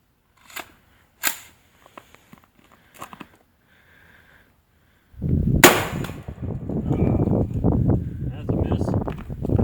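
An X-products soda can cannon fires at a watermelon set up downrange, a few faint clicks before one sharp loud report, followed by outdoor rustle and people talking.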